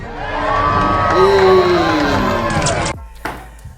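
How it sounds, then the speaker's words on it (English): A crowd cheering loudly with whoops and shouting voices, a dense rising roar that cuts off sharply near the end. "can we get a big cheer for diversity?"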